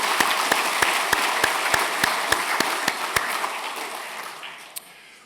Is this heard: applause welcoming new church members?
yes